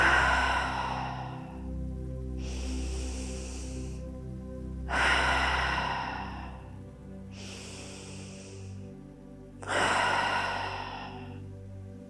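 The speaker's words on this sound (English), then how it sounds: "inhaling through the nose and exhaling to sigh out the mouth" Deep breaths during a yoga cool-down, slow inhales through the nose followed by audible sighing exhales out the mouth, three close, soft cycles with quiet pauses between.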